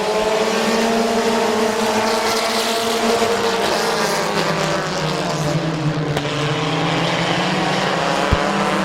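Race cars at Midvale Speedway roar continuously through a turn, loud and close, with engine pitch dipping and climbing as they pass under throttle, plus a couple of sharp clicks.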